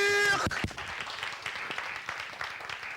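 Studio audience applause for a guest on a Friday-evening talk show, beginning under a brief musical sting, then settling into moderate, steady clapping with a few louder individual claps standing out.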